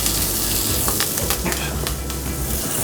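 Aromatic garnish drops into a hot frying pan beside browning veal paupiettes and sizzles loudly and steadily, a dense crackling hiss with small pops throughout.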